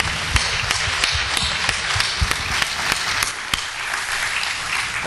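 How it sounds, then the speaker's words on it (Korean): A church congregation applauds in thanks, sharp individual claps standing out as distinct cracks over a steady wash of clapping that runs loud and close throughout. "우리 영광의 주님께 감사의 박수 올려드립니다."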